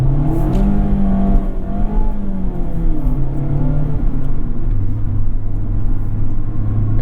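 A 2020 Mazda Miata's naturally aspirated 2-liter engine revs up toward its 7,500 RPM redline, a loud, close rumbling drone rising and falling in pitch through the gears from inside the car, with no talk.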